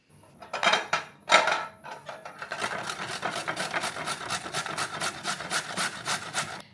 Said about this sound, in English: Is there any job worse than grating carrots?